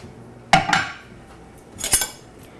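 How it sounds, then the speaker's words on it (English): Metal clinks against a pan on the stove as butter and then sugar go in over medium heat for crepes: two distinct close clanks about a second and a half apart in an otherwise quiet kitchen. "I'm going to take some butter and put in my pan, and I'm going to put this on medium, and then I'm going to put my sugar in."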